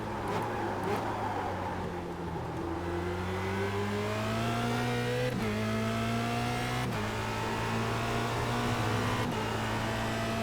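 Formula Renault race car in iRacing at Interlagos, its engine droning and revving steadily upward through several gears with brief dips at each upshift, loud and continuous with no talking.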